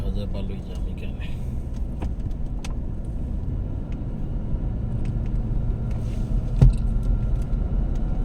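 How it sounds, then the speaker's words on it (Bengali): Dense road traffic stuck in a jam, heard as a steady, loud low rumble of idling and creeping cars, with a brief louder bump near the end. "গাড়ি দেখা যায় ভালোই জ্যাম এখানে"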